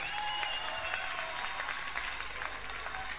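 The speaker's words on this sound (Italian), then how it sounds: "Volevo sentire un grande applauso per Marco Casale." An audience at the Piper Club in Rome claps steadily through a dense, even wash of applause, moderately loud and without talk.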